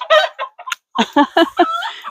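A free-range rooster in a garden crows loudly and close by, a harsh rising call followed by a long drawn-out cry, with no other sounds around it.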